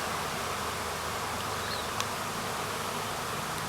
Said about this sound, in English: Put a swarm in a box and then they leave.